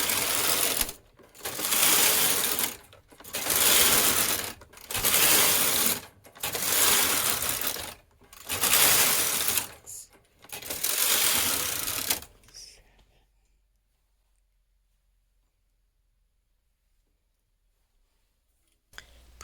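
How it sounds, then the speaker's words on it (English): A knitting machine carriage threaded with two colours is pushed back and forth across the needle bed, seven loud, rhythmic mechanical runs of whirring and clacking separated by brief pauses, then quiet. "Thread carriage with both colors. Knit 7 rows."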